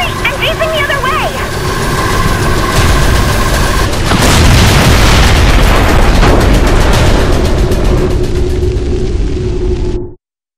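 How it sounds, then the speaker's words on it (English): A massive capital ship explodes in the video game Saints Row IV, a loud sustained boom and crackling roar that builds for several seconds and then cuts off abruptly, with game sound effects before it. "but I just blew up a capital ship"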